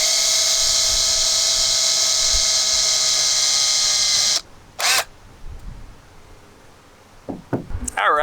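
A drill bores pilot holes for RV skylight flashing, a loud steady high-pitched whine running for over four seconds, then stopping abruptly, followed by a brief squeal and scattered knocks and handling noises.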